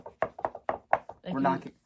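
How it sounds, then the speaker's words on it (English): Knuckles rapping on a wooden surface in a sports talk podcast studio, four crisp separate knocks spaced about a quarter second apart, close and dry, followed by a brief burst of speech. "We're knocking our wood for our audio listeners"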